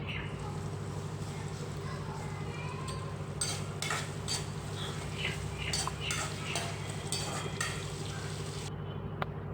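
Soft, steady sizzling of onions and curry leaves sautéing in oil in a pan, with occasional utensil scrapes and stirring clinks in a quiet kitchen.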